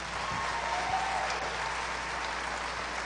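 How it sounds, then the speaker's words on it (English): Steady, dense applause from an audience at a county youth fair and livestock show, an even wash of clapping that holds for the full few seconds with no talk over it. "So let's all give them all a round of applause."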